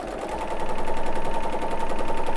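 Bernina L850 serger stitching quilt squares at half motor speed, a loud, close, steady mechanical whir with a fast regular chattering pulse that rises slightly after the start and runs continuously.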